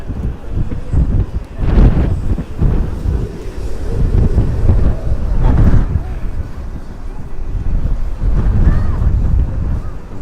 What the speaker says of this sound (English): it's definitely getting windier